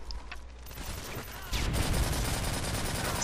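Gunfire in the first-person shooter Call of Duty: Modern Warfare 3, with a steady rattle of shots from more than one weapon that grows louder and denser halfway through, continuous and without talk.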